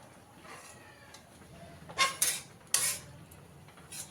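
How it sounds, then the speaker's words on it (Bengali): A metal ladle scrapes and clanks inside a kadai while oil is scooped out during biryani cooking: a few sharp, close metallic knocks and scrapes in short bursts over faint kitchen background. "একদম পুরো তেলটা তুলে কড়াইটা খালি করে নেব।"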